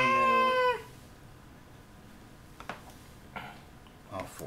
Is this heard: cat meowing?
yes